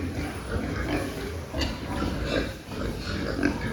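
Pigs, about 60 kg each, grunt and snuffle up close at a feeder amid rustling and chewing noises, with several short grunts over a busy, steady background.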